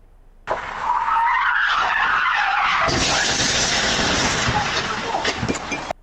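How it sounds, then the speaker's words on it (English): Surveillance footage of a car skidding at night in Northwest Miami before slamming into a home, loud sustained tire screech building into a harsher, broadband roar of the crash, with a news voice over parts of it. "That video shows the car slamming right into a home off of Northwest 18th Avenue and 46th Street."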